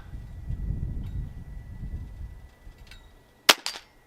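A Cometa Fenix 400 air rifle fires a single sharp shot on an outdoor range at an airgun expo, followed quickly by a fainter crack, after a stretch of quiet rustling and wind.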